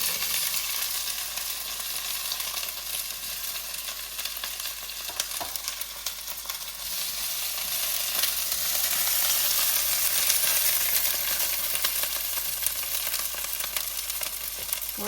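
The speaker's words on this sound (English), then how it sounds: "we'll have to fry these for a few minutes." Okra fries in hot oil in a pan, a steady dense sizzle with crackling pops that holds loud and constant throughout, with no voices.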